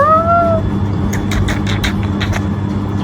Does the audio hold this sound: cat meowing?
yes